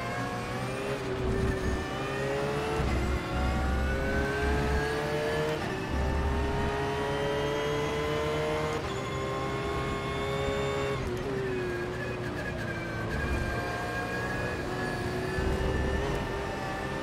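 Race car engines in a racing video game, with Ferraris and a Bentley on track, drone steadily with rising and falling revs and loud continuous tone throughout, with no talk.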